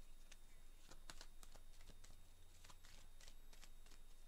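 A deck of cards is shuffled by hand in quick, crisp riffling bursts, quiet and close, with no voices.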